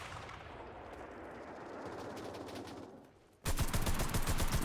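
Submachine gun fire in Enlisted, a Normandy battle game, starts after distant rumbling and bursts into a loud, rapid stream of shots close by.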